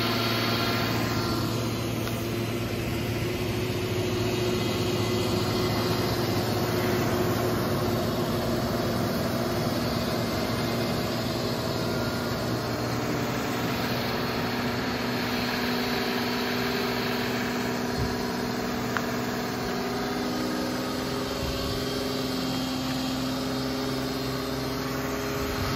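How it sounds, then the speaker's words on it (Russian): A Polaris off-road vehicle's engine idles steadily just after starting, a close, loud, continuous drone with a constant low hum and no talk over it. "Ух, Поларис завелся."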